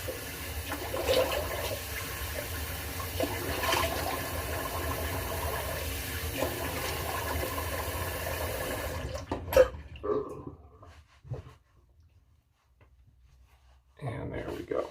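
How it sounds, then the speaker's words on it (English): Water running from a bathroom tap to rinse after shaving, a steady broadband wash for about nine seconds that cuts off abruptly, followed by a few clinks and quiet room tone. "Go ahead and get a little rinse going."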